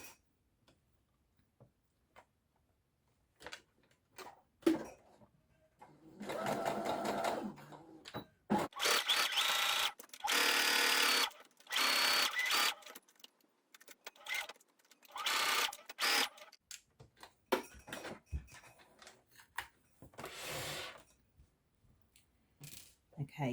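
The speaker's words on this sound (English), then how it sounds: "now I'm going to sew around the pocket" A sewing machine stitches around the pocket of a fleece gilet in several short bursts of rapid clatter, broken by quiet pauses and light ticking handling noises, close by.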